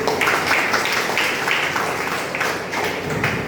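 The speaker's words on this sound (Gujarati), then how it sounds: "આપણે સૌનું તાળીઓથી સ્વાગત કરીશું" An audience at a family gathering applauding arriving guests, a steady dense clapping from many hands, near and fairly loud throughout.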